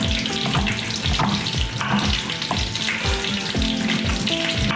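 Andouille sausage pieces browning in a pan next to a gumbo roux, a steady close, loud sizzle with busy stirring and scraping clatter running throughout.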